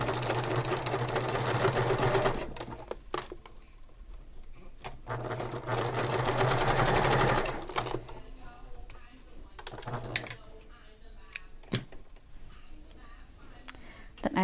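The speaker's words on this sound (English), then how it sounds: "And I will sew on each edge." A sewing machine stitches the edges of a handbag in steady whirring runs, loud and near, stopping and restarting with small clicks and handling noises between the runs.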